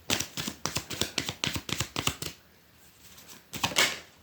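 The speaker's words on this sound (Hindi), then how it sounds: "एक शफल और कर लेते हैं." Tarot cards are shuffled for a pick-a-pile reading, a rapid series of about a dozen crisp riffling bursts in quick rhythm, close up, then a pause and one final short riffle.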